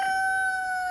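A rooster crows in a short, sustained, steady call, clear and fairly loud, heard on its own for under a second.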